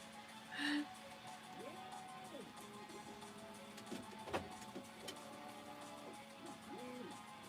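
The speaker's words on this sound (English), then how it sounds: "Are you dancing to my 3D printer sound?" A 3D printer running in a quiet room, its stepper motors whining in repeated rising and falling tones with short pauses between moves, steady and fairly close, with no talking.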